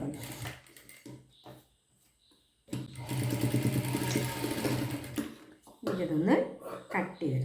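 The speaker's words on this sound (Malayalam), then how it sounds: "കറക്റ്റായിട്ട് 2 പീസുകൾ കൂടെ വെച്ച് അടിച്ചെടുക്കുന്നു." Sewing machine joining two fabric pieces while topstitching a collar, a steady whirring run of stitching in the middle, with a person talking before and after it.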